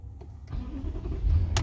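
A BMW engine starts with a push button, a short whir followed by the engine catching and settling into a close, low idle.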